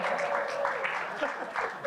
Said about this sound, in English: I don't know why you're applauding